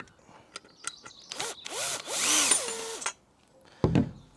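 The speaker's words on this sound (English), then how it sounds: "So you can just go around and unscrew those." Power driver backing out the headlight retaining screws on a Land Rover Defender, a few short whirring bursts rising and falling in pitch, then a clunk, close and fairly loud with no talk.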